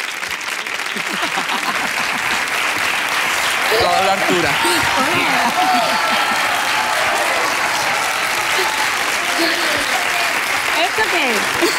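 An audience applauds a singer at a televised talent gala, loud sustained clapping that fills the whole stretch, with a few voices and cheers mixed into the crowd noise.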